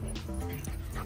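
A dog whimpers and whines softly in a short, continuous burst, close by, with a steady background hum.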